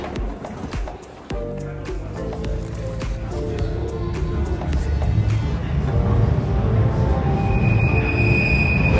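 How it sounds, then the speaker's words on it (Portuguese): A train pulls into a station with loud rumbling and squealing wheels that build steadily in volume, sounding close, with a high brake squeal near the end and some crowd noise around it. "estou aqui à espera do trem na estação"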